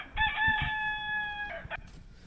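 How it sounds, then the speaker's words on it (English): A single rooster crows once, loud and close, a long held call lasting over a second that breaks off at the end. "Suddenly, the rooster crowed."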